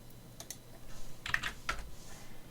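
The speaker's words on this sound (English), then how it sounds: "you're going to type in 90, 90" Keys on a computer keyboard tapped in a few short, quiet clusters of clicks as numbers are entered for a 3D design, alone with no talk.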